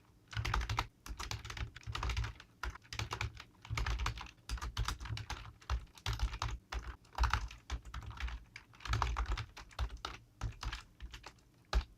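Code being typed on a computer keyboard in quick, uneven bursts of close, crisp key clicks with short pauses between runs, with no voices.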